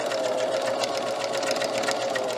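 Sewing machine running steadily, a continuous close motor whir with a fast, even needle rhythm and no pauses.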